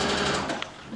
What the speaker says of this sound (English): So now I'm just sewing.